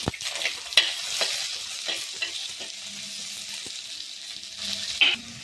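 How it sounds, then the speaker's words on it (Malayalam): Onion, tomato and green chilli sizzle in a hot pan for a Kerala-style fish curry, with scraping stirs and a few louder clacks of a spatula. "ഉള്ളിയും തക്കാളിയും പച്ചമുളകും ചേർത്ത് കൊടുക്കാം. ഇത് വഴറ്റിയെടുക്കണം."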